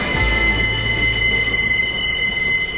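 Train wheels squeal loudly and continuously on railway tracks, a high metallic screech held over the deep rumble of the rail cars, with no voices.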